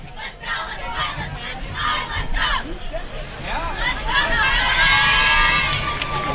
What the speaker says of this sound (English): Good crowd on hand tonight.